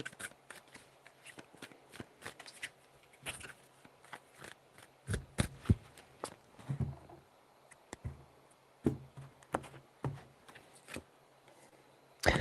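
Close, quiet riffling and slapping of tarot cards being shuffled in irregular bursts, with soft taps and rustles between.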